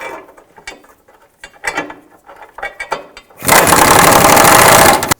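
Bolts being refitted to the front of a rear trailing arm on a 2005-2009 Chevy Equinox: a run of sparse metallic clicks and taps, then a loud, steady ratcheting or impact-tool burst in the final couple of seconds.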